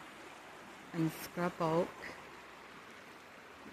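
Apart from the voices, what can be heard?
babbling brook in a canyon forest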